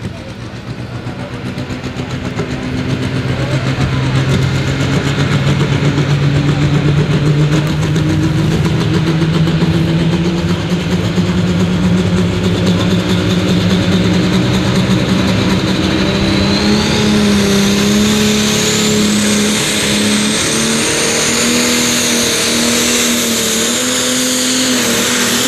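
A Fendt 930 Pro Stock pulling tractor with a 1800 hp diesel engine at an arena event, roaring loudly and continuously with rising revs over the whole stretch, while an announcer talks over it.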